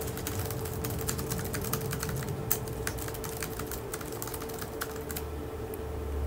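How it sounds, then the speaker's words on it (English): Computer keyboard typing picked up by a budget FiFine AmpliGame USB gaming microphone, a quick irregular run of light clicky keystrokes over a low steady hum, fairly quiet and with no talking. "that's how it sounds with the keyboard"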